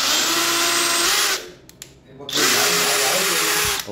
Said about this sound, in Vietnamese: Đôi khi ha, các bạn phải làm dấu trước ha, các bạn khoan mới được nha các bạn